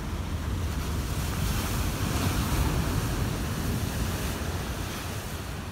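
Ocean surf washing steadily onto a beach on a chilly morning, with wind buffeting the microphone in a constant, fairly loud roar and no voices.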